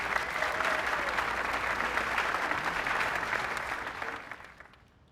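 A large conference keynote audience applauds the band with a dense, steady roar of clapping that holds strong for several seconds and then fades away at the end.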